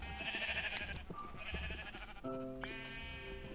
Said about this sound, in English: make sure that the blue sheep up there is constantly producing